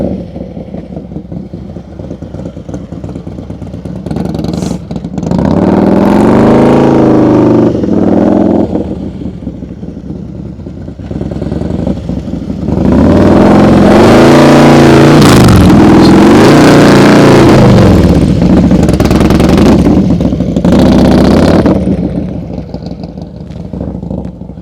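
A motorcycle rides slow-speed maneuvers around cones during a night practice session, its engine rising and falling in revs over steady idle, with two longer louder bursts of throttle and no talk.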